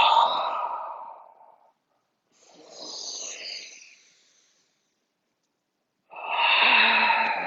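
Deep, slow breaths during a warrior yoga flow, with a long audible exhale, a softer inhale in the middle and another strong breath at the end, close and breathy, separated by silence.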